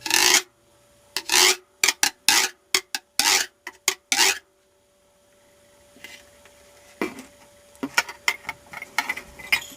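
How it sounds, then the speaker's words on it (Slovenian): A güiro is scraped in quick rasping strokes, loud and close, followed by softer, scattered scraping with pauses between. "Ti trakci služijo tem, da güiro da svoj značilen zvok."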